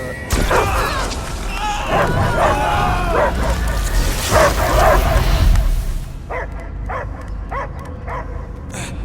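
A dog barks in Marvel's Guardians of the Galaxy video game, loud repeated barks and yips under booming game effects and talk, then a few clearer, evenly spaced barks alone.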